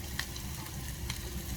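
Spaghetti sauce sizzles and crackles steadily in a pan, with a continuous fine spattering close by and a faint stir or clink now and then, and no talking.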